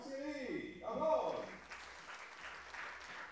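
Applause from spectators at a women's 10m air pistol competition final, a moderate wash of clapping rising under an announcer's voice and then continuing steadily.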